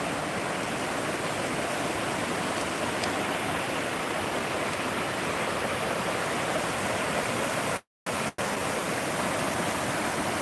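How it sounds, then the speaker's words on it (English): River rapids rushing steadily, a dense even roar of water that stays close and constant through the clip, cut only by a split-second dropout near the end. "Here's the rapids. Can you still hear me over the sound of the water?"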